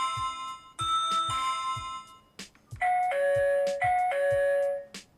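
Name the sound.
doorbell chime of a peephole camera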